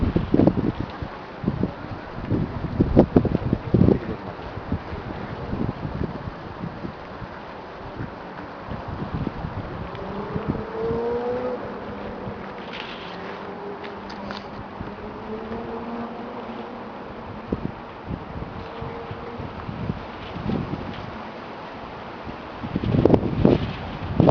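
Wind gusts buffet the microphone in uneven bursts, with a steady rushing hiss and a faint whine in between.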